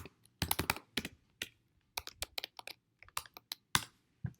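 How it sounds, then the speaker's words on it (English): Fingers type on a computer keyboard in quick, irregular bursts of sharp, close clicks with brief pauses between runs of keystrokes, no voices over it. "And here you just start typing the next assignment."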